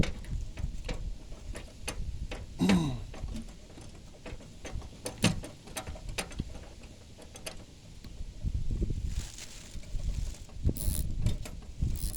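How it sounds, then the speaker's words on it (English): A hose clamp is tightened onto a plain rubber fuel hose during a fuel pump sending unit job on a 1988 vehicle, giving soft intermittent mechanical clicks and ratcheting ticks, close by and fairly quiet, with no talking. "We're going to tighten the clamp down."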